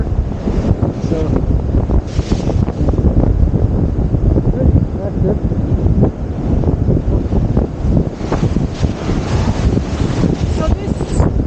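Strong wind from a Mediterranean storm, a medicane between Malta and Sicily, roars by the sea in loud, continuous gusts that buffet the microphone, with a brief voice speaking under it.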